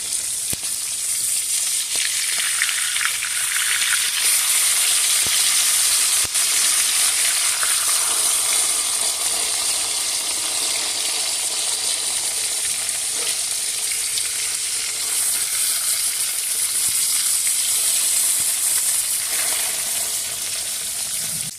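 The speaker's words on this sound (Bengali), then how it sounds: "মাছগুলো আমি লাল করে ভেজে নেব না অল্প আছে অল্প করে ভেজে নেব এবার মাছগুলো আমি উল্টিয়ে দেবো" Hilsa fish pieces fry steadily in hot oil, a continuous bright sizzle with occasional crackles and stirring that holds loud and close for the whole stretch, no voices.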